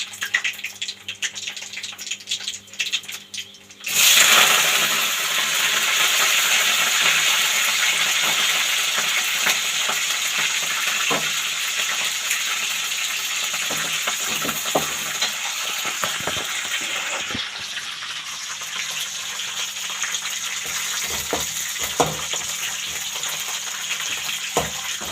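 Curry leaves, dried red chillies and green chillies hit hot oil for tempering, bursting into a loud, steady sizzle that holds for the rest of the stretch, with occasional small pops and clicks of spattering.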